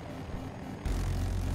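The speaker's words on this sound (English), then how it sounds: "There's another Apache." An Apache helicopter in a video game gives off a steady low engine rumble that suddenly swells louder and heavier partway through.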